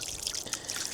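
Cold water from Picnic Spring in South Dakota trickles and splashes steadily close by, a bright, bubbling flow with small irregular spatters and no voices over it.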